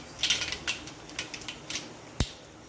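Mustard seeds crackling in hot oil while cooking tur dal varan: a scattering of small, sharp pops and ticks at an irregular rhythm, with one louder crack near the end, fairly faint.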